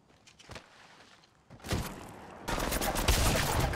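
Gunfire in Apex Legends Mobile opens with a few isolated shots, then swells into dense, rapid bursts that grow louder and more continuous toward the end.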